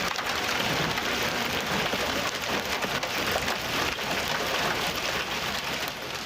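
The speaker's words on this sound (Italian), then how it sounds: "Solo dopo diversi minuti si è aggiunta anche la pioggia" Heavy rain pours down during a hailstorm near Bassano, a dense, unbroken hiss of drops striking surfaces, steady and loud from start to finish with no voices.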